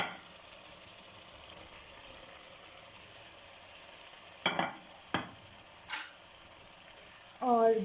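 Cauliflower goes into half-cooked potatoes in a frying pan, with a faint steady sizzle broken by several sharp scraping stirs of a spoon against the pan, and someone talking alongside.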